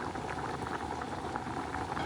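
Water with pigeon peas bubbles at a steady rolling boil in a pot, a dense continuous burble heard close up and fairly quiet, with no talking.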